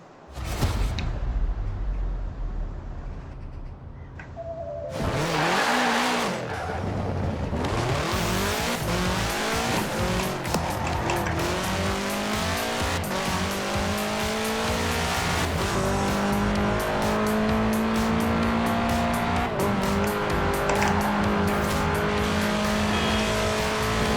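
A car fitted with a 2.5-liter F4 turbo engine in Forza Horizon 4 revs up and accelerates hard, its engine note climbing and shifting through gears with tire squeal, loud and continuous throughout.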